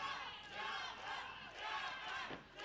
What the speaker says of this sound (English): And now the Chiapas chant from the crowd in Monterrey.